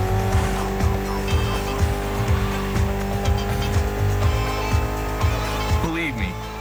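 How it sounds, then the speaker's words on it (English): A Mitsubishi inline four-cylinder with about 280 horsepower revs in a Gymkhana Grid Masters racing game. The engine note pulses rhythmically and loudly with brief tire squeals, and a voice talks over it. "Mitsubishi gave us a nice inline four-cylinder with already 280 horsepower."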